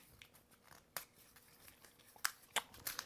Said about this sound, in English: just go through and peel this paper off right here